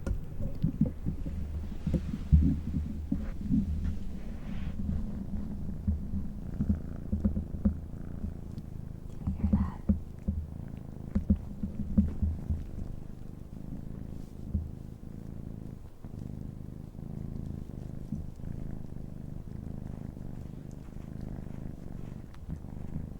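A small cat purrs close up in a low, steady rumble that continues throughout, with a few soft handling bumps and no speech.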